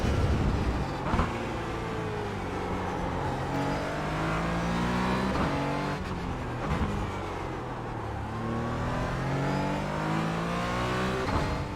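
Porsche Cayman GT4 racing at Silverstone in iRacing, its engine note sweeping steadily up and down through the gears, loud and continuous throughout with rising and falling harmonics on shifts.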